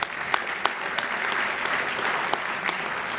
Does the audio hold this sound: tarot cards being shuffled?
no